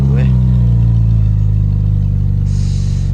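An old car, decades-old classic at a Canadian show, with its engine running steadily up close, a deep low rumble that holds throughout as someone talks excitedly over it.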